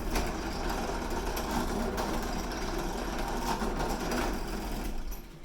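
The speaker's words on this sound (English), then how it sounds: "I'm going to pop it back under my drill and drill straight back through those original holes." A drill bores back through the original rivet holes of a broken plastic hula hoop joiner, a steady high-pitched mechanical whine running continuously and loud, then easing off at the very end.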